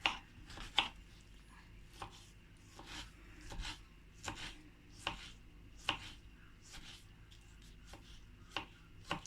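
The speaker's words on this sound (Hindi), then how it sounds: "टमाटर को भी हम ऐसे बारीक बारीक कट कर लेंगे।" A knife finely chops tomatoes on a board for a cheese omelette, a series of crisp, evenly spaced taps close by in a quiet kitchen.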